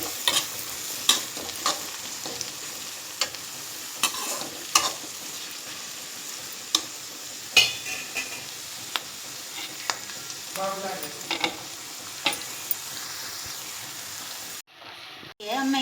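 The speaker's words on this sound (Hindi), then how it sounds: "सब्जी भी डाल दूंगी इसी के साथ, फ्राई हो जाएगी। थोड़ा फ्राई करनी है पहले सब्जी।" Vegetables fry in a pan for a macaroni dish with a constant close sizzle, punctuated by sharp clicks and scrapes of a spoon, before a brief dropout near the end.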